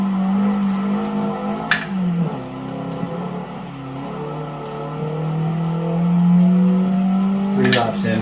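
A race car lapping in a racing video game, a steady engine drone rising and falling in pitch as it accelerates through turns, with brief squeals and clicks, engine sound continuing at a moderate level.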